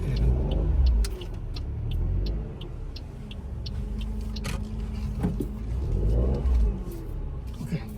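Car pulling forward slowly in first gear during an S-shaped parking manoeuvre, a low engine rumble swelling and easing at close range, with a voice talking over it.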